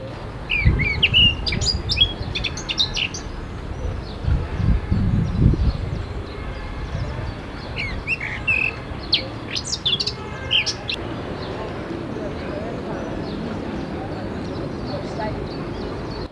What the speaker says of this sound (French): Voir les fauvettes à tête noire et la ville.